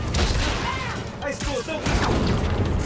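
A bridge collapses in an explosion during a dubbed Spider-Man Miles Morales film, heard as a dense, sustained roar of booming blasts and crashing debris that stays loud throughout, with voices shouting over it.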